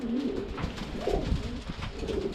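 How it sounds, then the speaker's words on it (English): Pet pigeons or doves, recovering after weeks of illness, coo softly and close by in a short low rolling phrase, with light background noise and no talk. "here's my birds"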